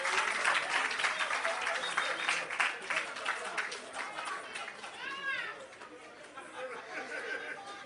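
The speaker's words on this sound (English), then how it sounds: "Please give Mr. Reid a round of applause." Crowd applause at an agro park opening ceremony in Clarendon, a steady patter of clapping with chatter mixed in, fading slightly toward the end, with a few high bird-like chirps partway through.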